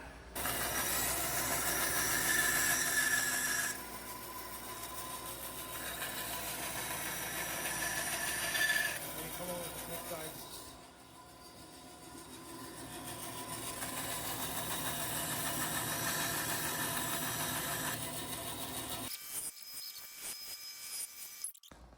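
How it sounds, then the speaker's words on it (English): Bandsaw slicing through oak hardwood, a continuous loud hissing, whirring cut that rises and falls over about twenty seconds before stopping abruptly. "We can just basically nip away at this with the bandsaw and get it close down to that line."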